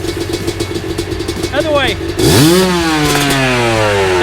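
A Yamaha YZ250 two-stroke dirt bike engine idles, then revs up sharply with a rising, wavering whine that holds loud and close, while a person speaks briefly over it.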